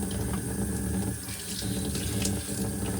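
Water runs steadily from a tap over soapy vacuum cleaner filters from a Shark NV501 in a sink, a continuous close splashing rush with no talk.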